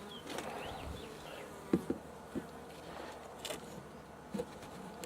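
A soft, continuous buzz of Russian honey bees in the background, with a few faint knocks and thumps scattered throughout.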